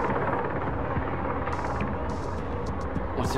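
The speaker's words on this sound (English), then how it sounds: "What's their chopper waiting for?" A paramilitary helicopter in the video game Quantum Break, a constant loud rotor drone with a rapid chopping pulse, joined by a few faint high electronic tones, no speech.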